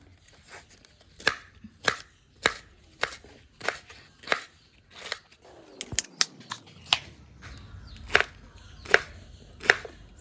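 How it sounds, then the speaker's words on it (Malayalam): A knife chops elephant foot yam flower into small pieces, striking a board in a steady run of sharp, close knocks that quicken into a faster burst halfway through. "ഇനി ഇത് ചെറുതായിട്ട് അരിഞ്ഞെടുത്തിട്ട് വരാം"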